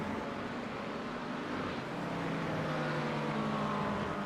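An LMP2 prototype race car at Road America in a racing game, its engine droning steadily with layered harmonic tones as cars pass, a continuous mid-level roar with no talking.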